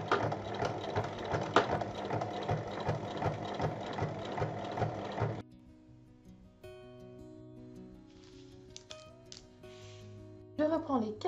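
A sewing machine stitches fabric in a fast, loud mechanical rattle for about five seconds, then stops, and a voice talks quietly over soft background music.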